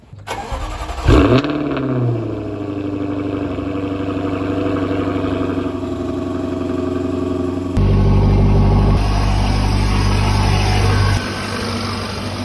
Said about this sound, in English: So let's get going, do a cold start